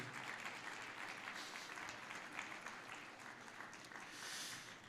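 A church congregation applauds loudly and continuously in praise, dense clapping from many hands filling the room without pause from start to finish.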